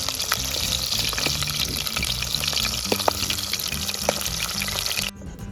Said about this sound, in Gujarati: બધા મરચાં વ્યવસ્થિત તળી નાખવાના છે।